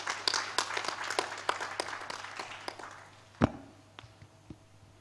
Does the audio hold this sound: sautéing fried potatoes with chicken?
no